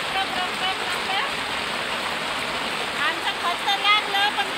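Heavy rain pours down steadily over farmland, a dense, unbroken hiss that stays close and constant throughout.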